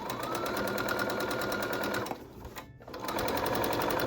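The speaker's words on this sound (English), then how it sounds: "Time to do lots and lots of edge stitching." A sewing machine edge stitches along a tote bag handle in a fast, even mechanical whirr, pausing briefly in the middle before starting up again, close and alone.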